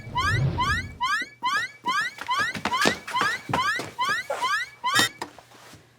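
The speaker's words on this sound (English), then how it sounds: "You set off the alarm." An alarm sounds from a hub, a repeating electronic chirping pattern of rapid rising sweeps in short bursts, loud and close, with a low rumble at the start.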